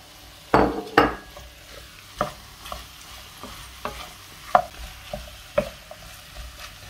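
Courgette being stirred in a hot pan for a Provençal ratatouille, a spoon scraping in irregular strokes about once a second over a soft, steady sizzle, close and clear with no talking.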